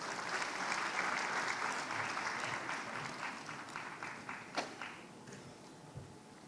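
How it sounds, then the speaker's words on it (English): Audience applause at a literary festival award gathering, a dense crowd clapping steadily that gradually thins and fades, with a few louder claps toward the end. "A warm round of applause as we welcome her."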